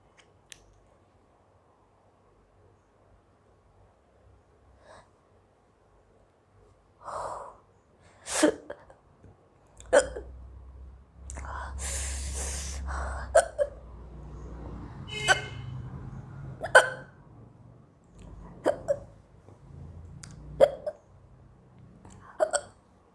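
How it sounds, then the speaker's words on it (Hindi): Repeated hiccups from a young woman, sharp isolated jolts spaced irregularly over a quiet background, with some breathy gasps and faint handling noise between them. "इतनी ज़्यादा मुझे हिचकी आ रही है"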